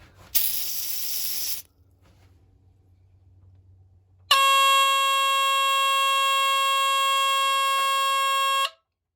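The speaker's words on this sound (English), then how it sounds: "This has a Kobishi CLB27 DC squealer alarm." A FirstGuard FG-1 smoke alarm with a Kobishi CLB27 DC squealer gives a loud, piercing electronic squeal steadily for several seconds after a brief hiss of test smoke spray, then cuts off abruptly.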